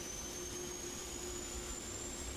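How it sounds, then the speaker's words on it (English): Simulated PMDG 777-300ER jet engine starting up in a flight simulator, a faint steady turbine whine with a slowly rising tone over a constant low rumble, heard alone. "Oh, listen to that baby power up."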